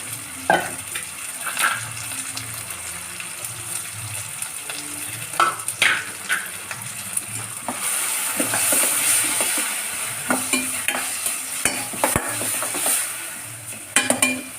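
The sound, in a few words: sautéing chilies and mint in a pan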